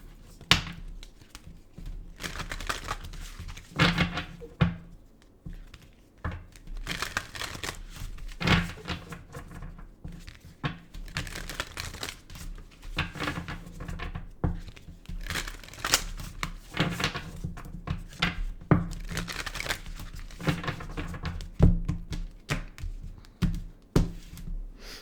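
A deck of tarot cards is shuffled by hand up close, with repeated papery riffles, slaps and soft thumps in an irregular rhythm over a long stretch, no voices.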